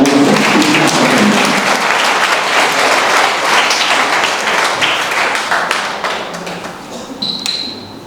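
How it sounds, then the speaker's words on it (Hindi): Loud, sustained applause from a seminar audience at a college, broad and continuous throughout, gradually easing toward the end with a few sharper claps standing out. "एक बार जोरदार तालियों से"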